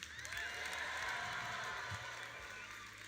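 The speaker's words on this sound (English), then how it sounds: "clap it up for a single-digit ROI" An audience at a talk on personal finance applauds and cheers faintly, a sustained rumble of clapping and crowd noise at a distance.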